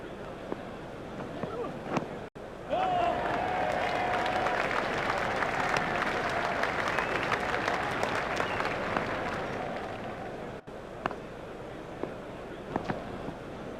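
A cricket stadium crowd at an Australia vs India ODI in India roars and applauds a front-foot shot, a sustained swell of cheering and clapping lasting several seconds before fading, with a commentator's voice around it.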